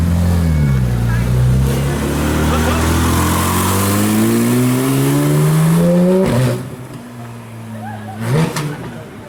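A Porsche GT3 RS engine revs hard on a street in Juan-les-Pins, pitch climbing through several rising sweeps before the throttle drops off, followed by a short burst and a quieter idle.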